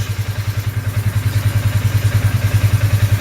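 A motorcycle engine idling in a workshop, a steady close, loud low-pitched throb with an even pulsing rhythm and no voices.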